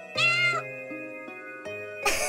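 A cat meows in the video game Umbraclaw: a few close, clear, drawn-out meows with bright tonal harmonics, separated by brief pauses, over a soft sustained musical tone.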